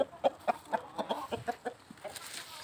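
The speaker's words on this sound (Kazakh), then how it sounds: "Әтешім." A rooster weighing about three to three and a half kilograms clucks in a quick run of short, close calls, fairly soft over a light background.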